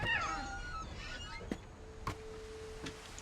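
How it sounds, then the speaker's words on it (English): A cat in the video game What Remains of Edith Finch gives a drawn-out meow at the start, followed by a few faint clicks in a quiet scene. "I heard a cat."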